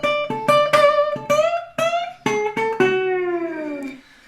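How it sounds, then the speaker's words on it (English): Guitar in Open D tuning plays a line with notes cut short by pick blocking, giving a series of about ten separated, plucked tones with clean gaps, ending on a longer ringing note; close and solo. "this type of muting is called pick blocking"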